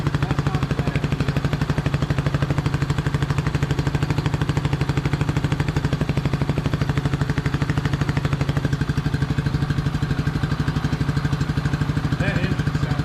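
A 1999 Suzuki DR200 single-cylinder motorcycle idling steadily and close by, its fast even firing pulses holding a constant rhythm for the whole stretch with no speech over it.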